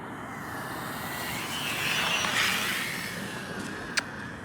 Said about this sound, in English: put my Ekranoplan through its paces